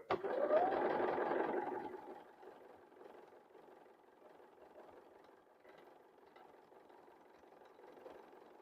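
A Bernina sewing machine stitches with a quick burst of fast whirring that fades after two seconds into a quieter, steady mechanical hum.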